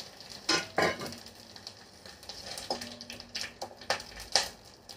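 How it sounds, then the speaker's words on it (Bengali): Whole spices (bay leaf, dried chilli, clove, cardamom, cinnamon and cumin) crackle in hot oil in a pan, giving a steady close sizzle broken by several sharp pops and light stirring clinks. "লবঙ্গ, এলাচ, দারচিনি আর গোটা জিরে আমি তেলের উপর দিয়ে দিলাম।"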